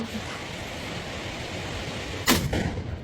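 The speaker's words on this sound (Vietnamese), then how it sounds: "Một tiếng súng vang lên, xé toạc sự yên tĩnh của thung lũng." A single gunshot cracks out in a quiet valley during a wild duck hunt, a sharp loud bang over steady rushing background noise, followed by a short echo.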